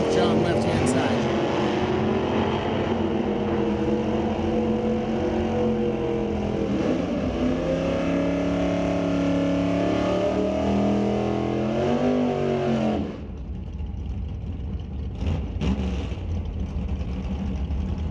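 Drag cars rev and launch at an NHRA national event, a 1990 Chevy Camaro automatic against a Super Stock racer, loud sustained engine roar that shifts pitch as they accelerate, then cuts sharply to a fainter trailing rumble.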